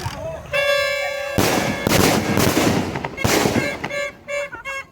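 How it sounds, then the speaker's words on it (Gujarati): Fireworks go off at a Ganpati pandal: sharp bangs and crackling bursts, loud and close, broken by ringing bell-like tones, with voices in the background. "અમે આવી ગયા ઘરે એટલે ગણપતિ બાપાના મંડપમાં એટલે આતિશબાજી ફોડવાનું કામ ચાલુ."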